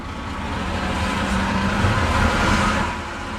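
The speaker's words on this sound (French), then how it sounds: "Et nous sommes vite pris dans deux incroyables colonnes de camions, roulant à la queue leu-leu et bloquant la circulation." Steady, loud rumble of a column of trucks crawling nose to tail along a congested road in China, with engine drone swelling slightly toward the middle and easing at the end.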